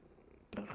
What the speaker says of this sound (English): The purring, you can hear it.